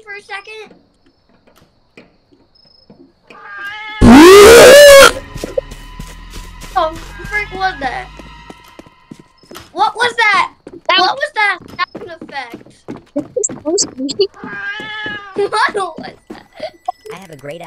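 Children chatter and play while a voice repeatedly imitates a cat's meow, high and sing-song, interspersed with speech.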